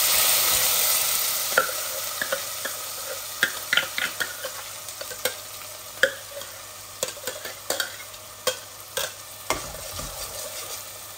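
Blended onion paste and dry spices sizzling in a pan with ayre (aair) fish, broken by a steady run of sharp scraping and tapping from a spoon as the mix is stirred, close and fairly loud, with no talking.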